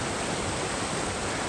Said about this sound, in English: there is a really pretty waterfall right behind me there